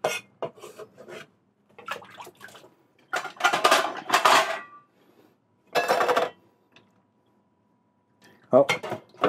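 Garlic chopped finely with a knife on a cutting board while making Hong Kong-style sweet and sour pork chops, heard as intermittent bursts of quick, close knocking and scraping separated by pauses, with voices in places.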